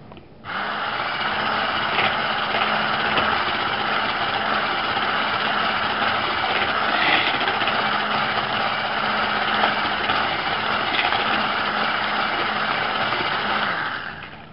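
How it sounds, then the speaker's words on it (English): An electric mixer whisks an egg into vanilla sponge cake batter, a steady high motor whir starting abruptly and running continuously and loudly for the whole stretch before cutting off. "and we'll whisk it again."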